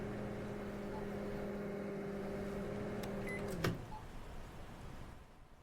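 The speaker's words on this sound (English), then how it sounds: "Put it in the microwave. Close the door. Off it goes." Microwave oven in the Cafemart Simulator video game: a steady humming drone runs for several seconds, with a couple of faint beeps, then cuts off with a click, leaving a quieter hiss.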